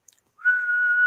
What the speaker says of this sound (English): All I got is a whistle, man.